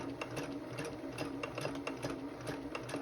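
A sewing machine stitches a simple seam through fabric with a steady, rapid mechanical rhythm of needle strokes, close and continuous for the whole stretch, with no talking.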